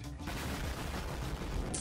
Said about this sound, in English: This is how the fuselage of an no. aircraft is tested. Will it be able to withstand the explosion?